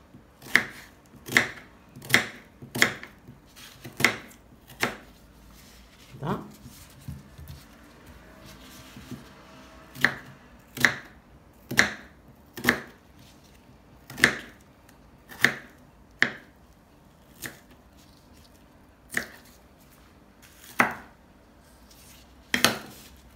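A knife chopping vegetables on a board for a Moroccan bean and meat stew, a long run of sharp, regular knocks, some quick and some spaced apart, close and clear with no talking.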